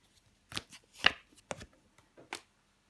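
Tarot cards being handled and shuffled in a few separate close bursts, with soft rustles and sharp card snaps between short pauses.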